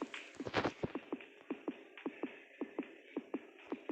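A heartbeat in the horror video game Granny, played on hard mode during a sewer escape: a quiet, steady series of soft thuds, roughly two per second, following a brief louder clatter near the start.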